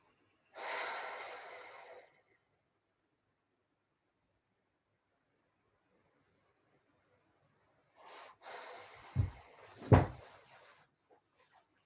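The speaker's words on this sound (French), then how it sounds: "Écoutez votre respiration." During a yoga relaxation class, slow breaths come close to the mic: one long exhale, a long silence, then another breath with a few soft bumps and puffs.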